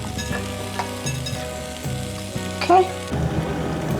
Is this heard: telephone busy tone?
no